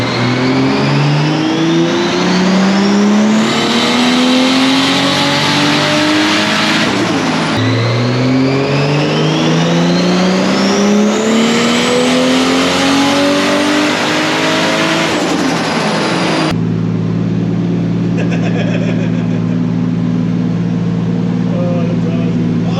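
Fully built Toyota Supra with a cheap budget turbo kit on a dyno, loud engine revving up through the gears in two long climbing pulls, then settling to a steady droning idle.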